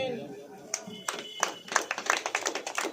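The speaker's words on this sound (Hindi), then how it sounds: "ताली बजाओ।" A church congregation claps hands during a Hindi sermon, starting with a few scattered claps and building into a quicker, denser run of claps, with a voice speaking at the start.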